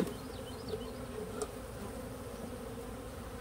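Honeybees at swarm cell splits in a beeyard hum steadily and densely at close range, a continuous buzz with a few brief louder passes and no voices.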